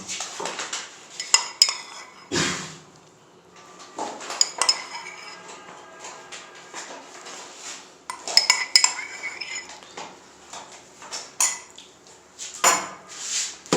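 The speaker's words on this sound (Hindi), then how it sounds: "इसकी अब हम अच्छे से मिक्सिंग करेंगे।" Yogurt chicken marinade with cornflour being mixed in a bowl: a spoon scraping and clinking against the dish in irregular bursts, sharp metallic knocks separated by quieter stirring, close and alone.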